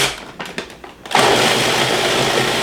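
A blender starts up after a few short pulses and settles into a loud, steady whir as it mixes a lemon juice marinade for Moroccan-style Easter lamb shanks.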